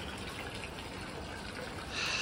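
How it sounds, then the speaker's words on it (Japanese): A river stream babbles beside an outdoor hot spring bath, a steady rushing wash of water that swells slightly louder toward the end. "川のせせらぎを聞きながら温泉に入ることができますね"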